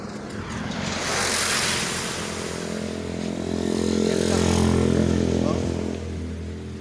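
A motorcycle rides along a road between Babayongan and Dalaguete, its engine droning steadily and swelling louder twice, close to the microphone, with faint voices now and then.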